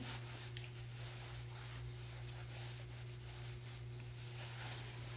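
Lotion rubbed into skin close by, a soft continuous friction swishing over a steady low electrical hum.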